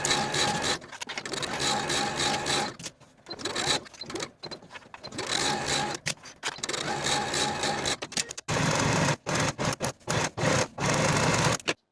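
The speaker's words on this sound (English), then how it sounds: "Then we can sew from the bottom of the sleeve straight down to the bottom of the bodice with a 3/8 inch seam allowance" A sewing machine stitches the side seams of a gathered-neck ruffle blouse in repeated close bursts of rapid chatter, starting and stopping several times with short gaps between runs.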